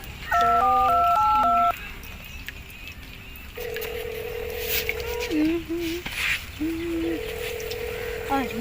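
Telephone keypad tones beep in a rapid, loud run of dialing, then the line settles into steady ringing tones, with someone talking over them in a Gujarati Raksha Bandhan comedy sketch.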